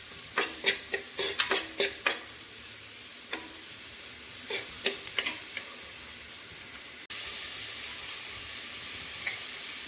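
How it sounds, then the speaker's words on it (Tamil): Finely chopped large onion frying in oil toward golden, a steady sizzle broken by a run of sharp clattering stirs early on, then continuous hiss alone. "அதை ஆட் பண்ணி இது லைட்டாக கோல்டன் கலர் ஆகட்டும்,"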